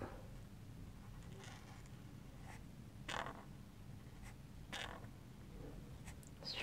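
A Tombow brush pen tip writes on paper in a quiet room, giving faint, soft scratchy strokes in short irregular bursts over low background hiss.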